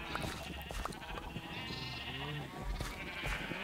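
Minecraft sheep give a few faint bleats among the game's background sounds, with no talk over them.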